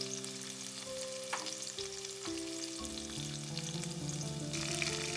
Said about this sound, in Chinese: 这个时候要用小火，慢慢的把这块火锅底料炒开